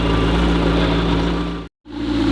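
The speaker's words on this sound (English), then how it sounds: "That's the exhaust. Twin turbo V8 hybrid. The brand new Temerario." Lamborghini Temerario, a brand-new twin-turbo V8 hybrid, idles with a loud, steady exhaust drone rich in low harmonics, briefly cutting out to silence near the end before the rumble resumes.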